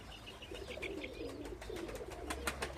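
Pigeons cooing on a Budapest rooftop, soft repeated coos layered with a few brighter chirps against steady outdoor background noise, no voices.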